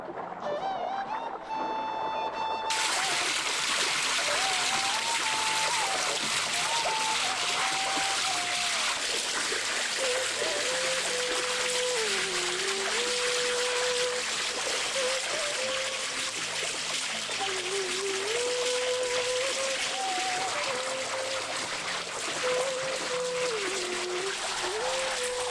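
Goat intestines being scrubbed and rinsed by hand with warm water for a village-style fry, giving steady continuous splashing and trickling close by, with a faint tonal whine wavering underneath throughout.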